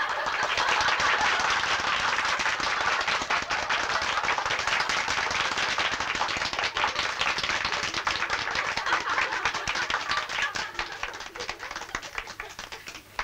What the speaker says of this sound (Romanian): aplauze entuziaste